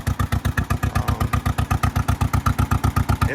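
1958 John Deere 420 two-cylinder tractor with 6-volt system running outdoors in cool weather: a loud, close, steady loping putt-putt beat with evenly spaced firing pulses and no talk.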